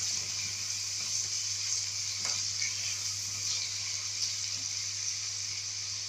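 Tomato sauce sizzles in a pan of frying onion, garlic and pepper, a steady loud hiss that runs without a break, with a low hum beneath it.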